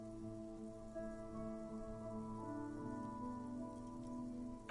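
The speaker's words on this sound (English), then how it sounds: "This rain will not let up anytime soon." Steady rain falls in a video game, a constant close hiss with a sustained tonal musical drone running underneath the whole time.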